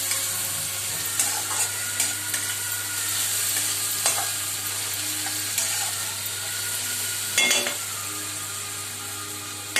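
Onion and tomato sizzle steadily in a pan for a home-style Katla fish curry, stirred now and then with brief scraping clatters over a constant frying hiss; no one speaks.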